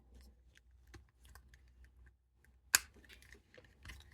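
Plastic parts of a Transformers Legacy United leader class Soundwave figure click and rattle quietly as they are folded and flipped, with light scattered clicks and one sharp snap near the end.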